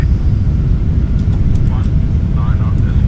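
Boeing 777 airliner taking off in a flight simulator, a loud continuous low engine roar steady throughout, with brief faint cockpit tones on top.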